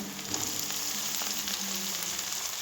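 Chilli and capsicum sizzle in a hot pan while pasta fries, a steady close crackle with soft stirring scrapes throughout and no talking.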